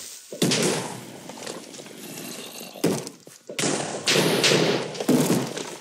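Elementium thrown in the Minecraft Thaumcraft mod bursting in a series of loud, close thuds and blasts, several heavy impacts in quick succession with a short pause in the middle.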